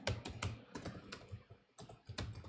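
Rapid keystrokes on a computer keyboard at a desk, a quick irregular run of sharp clicks with brief pauses, close and clear with no talking.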